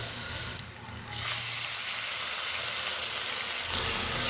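Tap water running steadily while a mixer jar is rinsed, a close, continuous broadband hiss with a brief dip near the start, no voices.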